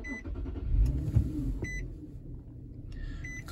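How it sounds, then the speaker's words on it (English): A 2015 Infiniti QX70 SUV starts up inside the cabin with a low whirring rumble as the engine catches, followed by a few short electronic chimes and beeps from the dashboard. "Start the vehicle."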